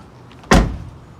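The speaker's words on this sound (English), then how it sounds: "and close the door" A car door shuts with a single solid thump after a roof-mounted cargo bag carrier is loaded, close and loud, with a short fading rumble and no voices.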